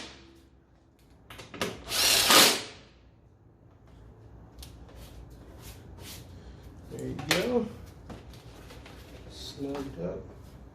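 Bolts are snugged up with a power tool on the Yoshimura rear fender eliminator of a 2018 Honda CBR1000RR, in a few short close whirring bursts separated by quiet handling noises, with someone talking.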